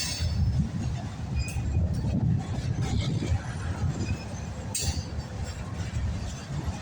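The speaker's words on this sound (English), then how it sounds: "Let's take a look at this Wisconsin Central boxcar." A CSX northbound mixed freight train rolls past, including a Wisconsin Central boxcar, with a continuous low rumble of wheels on rail and occasional metallic clinks and squeals, fairly close and steady throughout.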